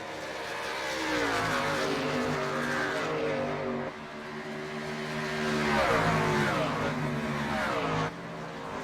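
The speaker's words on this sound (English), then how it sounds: "There's so many trucks slipping and sliding, it's hard to keep up with it all." Racing truck engines from the iRacing Truck Series sim race, droning steadily as several trucks lap together, with pitch rising and falling through gear changes and passes, under commentary voices.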